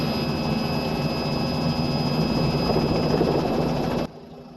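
A Robinson R66 helicopter on a flight over London gives off a loud, steady turbine whine and rotor roar with constant high tones, heard from close up, until it cuts off abruptly near the end.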